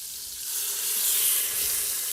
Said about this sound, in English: See that sizzle in there?